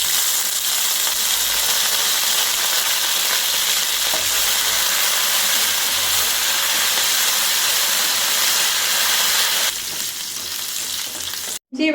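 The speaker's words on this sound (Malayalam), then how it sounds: "ഇനി നമുക്ക് ആ എണ്ണയിലേക്ക് കറിവേപ്പിലയും കൂടെ വറുത്ത് കോരിയെടുക്കാം." Curry leaves fry in hot oil left from frying onions for a biryani, giving a loud, steady, close sizzle and hiss that runs unbroken before dropping slightly near the end.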